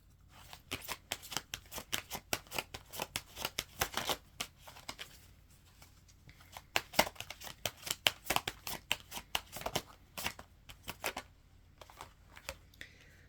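Angel cards shuffled by hand close up, a long run of quick papery riffles and flicks in uneven bursts with a brief lull midway, no talking.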